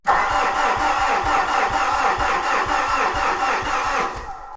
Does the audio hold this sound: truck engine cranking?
yes